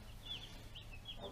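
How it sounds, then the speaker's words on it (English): Meat chickens in a coop, a flock of about a hundred birds, give short, faint clucks in a brief burst, with a few calls rising over a low background hum. "So that's 104 chickens."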